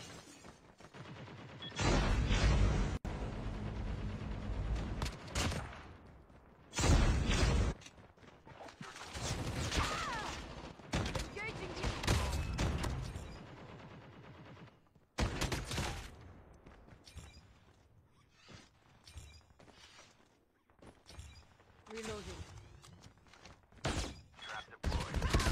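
Bursts of gunfire in the mobile game Call of Duty Mobile, repeated volleys of shots and thuds scattered over a long stretch, with players talking at times between the firing.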